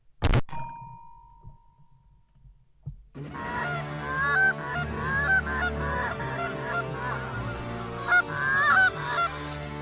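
Geese honking during a goose hunt in Sweden: one sharp call at the start, then after a quiet gap a loud, continuous chorus of many overlapping honks from a flock, with no talk.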